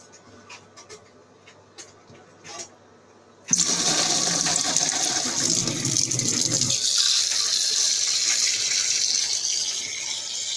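Cold tap water gushing into a bowl in a kitchen sink, a few faint clinks first, then a loud sudden rush of running water that continues steadily to the end.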